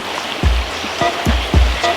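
Cold Creek stream flowing near Sandy, Oregon, a close rushing babble of water with several low sloshing splashes at irregular intervals.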